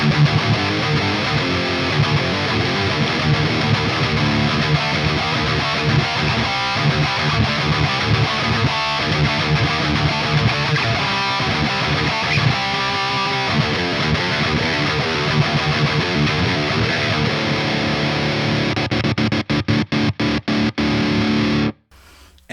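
Heavy distorted electric guitar, a custom-built guitar with Pegcity pickups, chugging out rhythm chords, loud and continuous, then cutting abruptly to near silence at the end.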